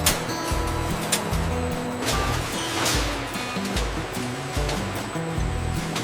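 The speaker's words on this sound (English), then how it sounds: "Grapes are bathed in clean, cold water with gentle pressure, removing dust and excess chemicals." Cold water rushes and sprays steadily inside a factory grape washer as the fruit is bathed under gentle pressure, a continuous, fairly loud wash of water with machinery rumble beneath and no talk.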